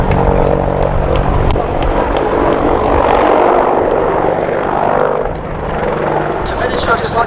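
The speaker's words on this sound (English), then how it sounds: "Attack Helicopter Display Team." AgustaWestland Apache attack helicopter of the 2019 Attack Helicopter Display Team flying a display at the Duxford Air Festival, a loud sustained rotor and engine roar with a commentator talking over it throughout.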